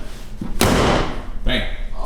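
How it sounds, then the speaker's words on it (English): The hood of a Dodge Challenger 392 fitted with a Shaker riser kit slams shut with a single loud, close bang that rings out briefly, in a garage where people are talking. "now we're just gonna close the hood and test fit it"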